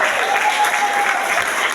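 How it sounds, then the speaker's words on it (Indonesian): Students at an Islamic junior school gathering burst into loud, continuous clapping for a classmate who has just recited the Quran, a dense close applause filling the short moment. "tepuk tangan buat teman kita"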